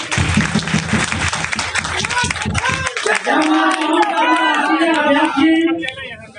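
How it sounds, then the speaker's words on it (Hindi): Loud crowd applause welcoming a leader at a Lok Janshakti Party political rally in Bihar, dense clapping at first that thins into cheering and chatter while an announcer's voice carries over it. "एक बार जोरदार ताली लगाकर थोड़ा इनका स्वागत कीजिए"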